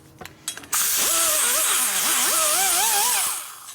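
A die grinder smoothing the intake port of a Harley 80ci Evo cylinder head, a loud high-pitched whine that rises and wavers in pitch as it loads and unloads against the metal, after a few short clatters, then winds down.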